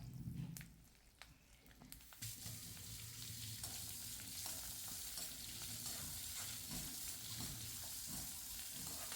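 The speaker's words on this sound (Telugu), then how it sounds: "ఇవన్నీ కలిపి ఇప్పుడు వేగుతున్నాయి అన్నమాట." Dried red chillies and spices fry in a pan for a coriander pickle, giving a steady close sizzle with light stirring scrapes and no voices.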